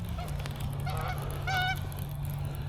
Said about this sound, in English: Here's some geese again.